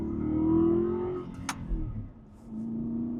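An Aston Martin Vantage V8 engine hums and revs from inside the car, a rising tone dipping and settling as a manual gear shift is made, with a brief click midway.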